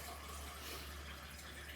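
Water runs from a tap into an emptied coconut milk can for a sweet potato curry, a steady, fairly quiet hiss of filling liquid with no talk.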